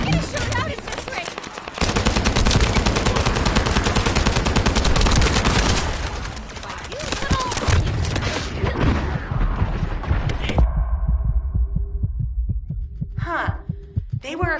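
Rapid automatic gunfire in the video game The First Descendant, a loud sustained burst of dense shots that breaks off near the end into a few sparse thumps.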